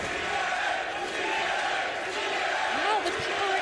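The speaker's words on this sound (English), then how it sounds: "the people are cheering for me" A wrestling arena crowd cheers and roars in a sustained wash of noise that holds at an even level throughout.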